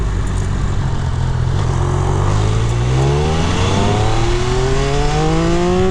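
A 2023 Triumph Speed Triple RR 1200cc street-legal motorcycle accelerates hard, its engine note climbing steadily through the gears in rising sweeps, loud and close, with steady wind noise and no voices.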